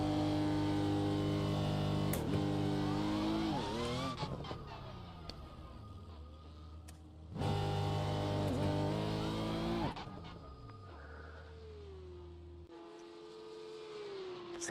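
A Porsche Cup race car engine in a racing video game, revving loud and close with rising and falling gear-change sweeps, then dropping to a quieter idle-like drone.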